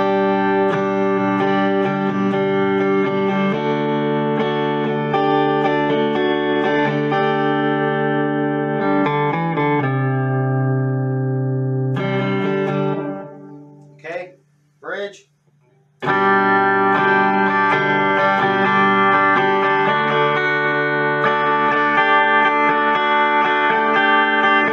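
Electric guitar on the neck pickup played nearly clean through an Iset Dumbler Mini pedal with a touch of spring reverb, sustained chords ringing loudly, a brief quiet gap with a few plucked notes midway.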